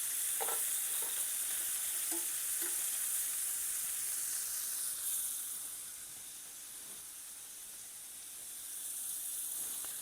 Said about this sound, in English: we're going to give them a flip. You can see, nicely seared.